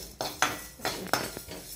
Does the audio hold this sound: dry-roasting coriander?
yes